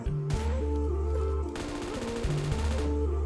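Rapid gunfire bursts from a PUBG Mobile match, loud automatic shots in two dense volleys over a steady low game hum, with no talking.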